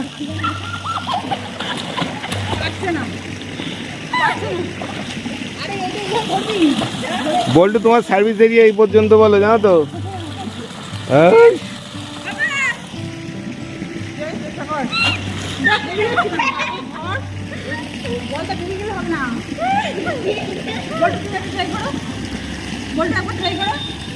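Water splashing and sloshing in a swimming pool as children learn to swim in cold weather, irregular splashes near and loud under frequent children's talk and shouting throughout.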